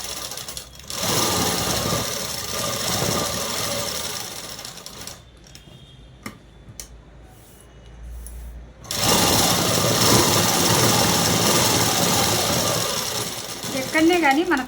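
A sewing machine stitches a dress in loud rapid rattling bursts, pausing briefly in the middle before running again at a steady clatter.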